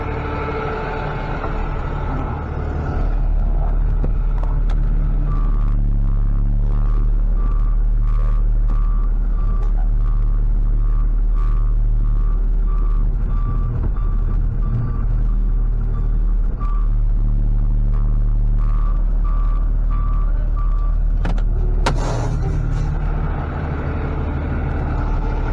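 A truck reversing near a 1929 or 1936 Ford at a car gathering, its steady repeating backup beeps sounding over a loud engine rumble for most of the stretch, then stopping, with no talk.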